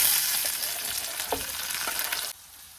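Dried red chillies, broken into small pieces, hit hot tempering oil with a bright, crackling sizzle that fades gradually, a few stirring knocks in the middle, before cutting off abruptly near the end.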